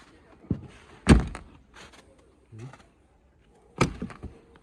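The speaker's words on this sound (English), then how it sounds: "And you can close the door?" A few sharp thuds of a Polaris Ranger UTV door shutting, one loud and solid, with quieter clicks and a faint murmur of voices between.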